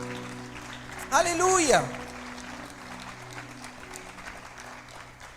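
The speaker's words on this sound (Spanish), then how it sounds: "¿Le puedes dar un aplauso al Señor?" A church congregation claps in a soft, continuous wash of applause while a voice rings out loudly over it for a moment before fading back.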